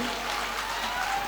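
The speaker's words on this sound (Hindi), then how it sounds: "तालियां बजाइए इनके लिए।" Audience applauding a poet at a mushaira at the Chaiti Mela in Gola Gokarannath, a dense, even wash of clapping heard alone.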